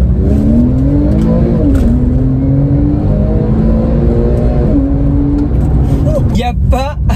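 A Porsche 911 997 Carrera S 3.8 with PDK gearbox launches hard, its engine note climbing loudly and close up. It drops sharply at quick upshifts and then keeps pulling.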